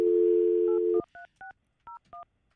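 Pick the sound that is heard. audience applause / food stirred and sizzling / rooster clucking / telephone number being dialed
telephone number being dialed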